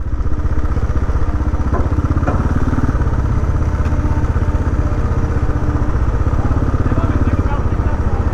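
Motorcycles ride onto a ferry with a steady, loud engine drone that runs the whole time. Clanks and clatter from the deck or ramp are heard beneath it.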